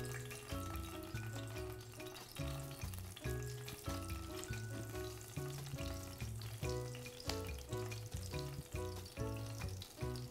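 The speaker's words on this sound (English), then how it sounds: "Okay, the pan's hot enough. We're just adding tofu right to it." Tofu pieces dropped into a hot pan for country fried tofu sizzle and crackle steadily at close range, a continuous bright frying hiss with a rhythmic pulsing undertone, no voices.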